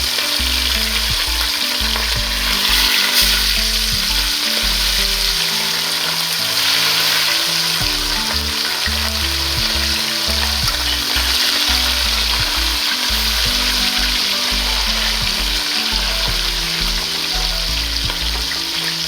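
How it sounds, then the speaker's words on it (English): Fish frying in very hot oil while a home cook prepares crispy fried fish, giving a steady, loud, close sizzle with bubbling and crackle that runs unbroken throughout, with no talking. "that's my last fish. That's finished frying."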